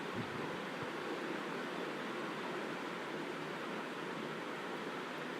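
Onions sautéing in a pan for a samosa filling, giving a steady, close hiss of sizzling that stays even throughout.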